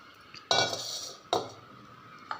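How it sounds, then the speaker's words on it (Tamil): Ration-rice idli batter tipped from a cup into a metal cooking vessel, with two distinct clattering knocks of utensils against the pot and a faint clink at the end. "இப்போ இதை நம்ம ஒரு பாத்திரத்துக்கு மாற்றிக்குவோம்"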